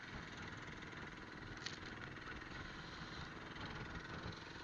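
A fishing boat's motor runs at sea, pushing into the wind, giving a steady, unbroken engine drone with wind noise over it and no talking.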